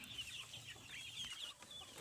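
Free-range village chickens cluck softly in short, repeated calls against faint outdoor background noise, with no voices present.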